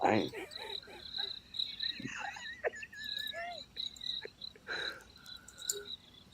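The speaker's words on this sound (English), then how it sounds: "Thanks for the crickets." Outdoor crickets chirp in short repeated trills alongside other insect and frog-like calls, with a few brief voices and scattered noises at a live drone entertainment event.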